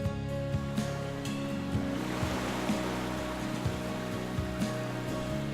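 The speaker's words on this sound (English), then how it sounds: "This is where our water supply runs into the ocean." Ocean surf rolls in at the Santa Cruz shore where the town's water supply drains into the sea: a steady broadband wash with soft surges, overlaid by sustained tonal layers.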